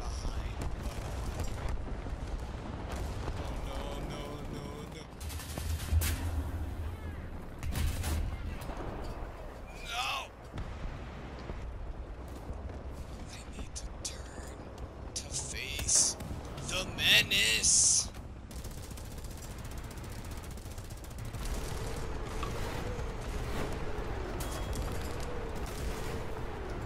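Rocket explosions and gunfire in an online shooter game, booms and bursts of shots scattered over several seconds while players talk excitedly over them.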